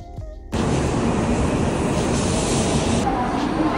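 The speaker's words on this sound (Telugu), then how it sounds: "Now let's go from Tokyo to Kyoto with the Japan Rail Pass in a bullet train." A Japanese Shinkansen bullet train between Tokyo and Kyoto gives a loud, steady broadband rush that starts abruptly and then holds constant, with no talk over it.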